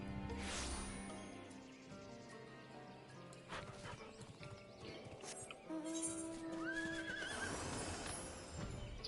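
A mounted steed in Final Fantasy 14 gives a loud neigh and whinny near the start, followed by clip-clopping hooves and in-game music and effects, with another drawn-out whinny toward the end.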